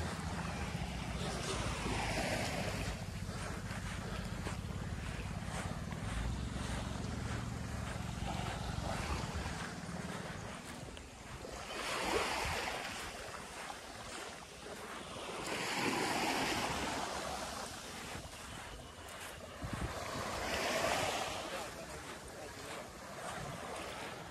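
Waves roll onto Mae Nam Beach on Koh Samui in slow, surging swells every few seconds, mixed with steady wind rumble on the microphone.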